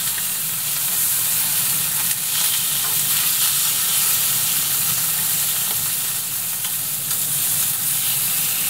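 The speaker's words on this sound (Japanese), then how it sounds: "しっかり焼き目がついたら反対側にも軽く焼き目をつけます。" Saury fillets searing in a frying pan give a steady, close, fairly loud sizzle and crackle that runs without a break and with no talking, while the second side is browned for a saury rice dish.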